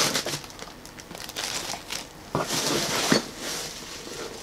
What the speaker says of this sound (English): Get the plastic out of the way.